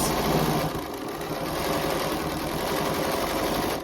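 A sewing machine stitches the outer fabric of a small handmade gift, running continuously with a fast, even mechanical chatter and hum, close up and without talk.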